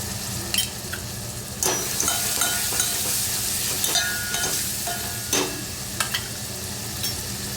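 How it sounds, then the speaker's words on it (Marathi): A chilli, garlic, cumin and coriander paste with asafoetida fries in hot oil for kadhi pakoda, a steady sizzle broken by several sharp scrapes and knocks of a spoon stirring against the pan. "हे सगळं व्यवस्थित आपल्याला परतून घ्यायचं आहे।"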